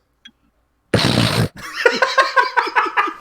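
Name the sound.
voice imitating a sniffing noise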